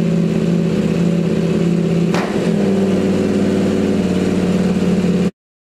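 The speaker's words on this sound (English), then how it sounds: "The first step we are going to take is to start up the motorcycle and warm it up." A Krämer GP2-890R motorcycle engine runs close and loud with a steady, buzzy idle, surges briefly once, settles back into the even throb and then cuts off abruptly.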